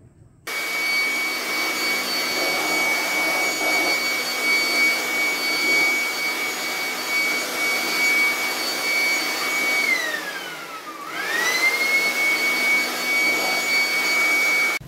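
A handheld air blower runs steadily and loud close by, blasting dust out of a split-type aircon filter, its whine dipping briefly near the end before recovering, with no talk over it.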